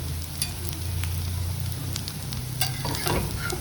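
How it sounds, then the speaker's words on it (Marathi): Sarwapindi flatbread frying in oil on a pan, a steady close sizzle with bubbling crackle and occasional stirring scrapes throughout, and no voices. "त्याला थोडं तेलाच्या बाजूला घेऊन जाते, म्हणजे हे तेल याला लागेल आणि क्रिस्पी होईल."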